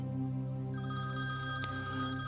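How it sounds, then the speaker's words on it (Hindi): An old-style telephone bell rings steadily in the evening, a sustained metallic jangle heard alone and fairly close. "शाम को करीब 7 बजे फोन की घंटी बजी"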